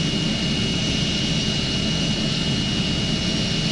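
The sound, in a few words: airplane engine in Airplane Flight Simulator Evo video game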